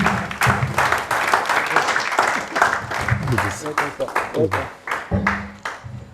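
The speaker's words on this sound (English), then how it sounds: "Ladies and gentlemen, once more, a round of applause for Mr. Mayowa Owolabi." An audience at a real estate wealth-building event gives a standing ovation, with dense clapping running beneath a voice that speaks over it, swelling and easing in waves.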